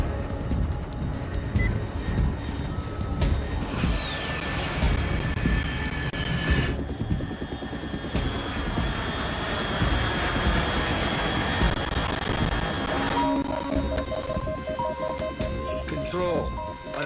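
Aircraft engine drone in the video game Metal Gear Solid 3, a steady, moderately loud rumble that sustains throughout, with electronic tones and talk layered over it.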